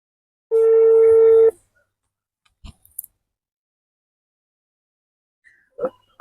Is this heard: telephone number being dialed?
yes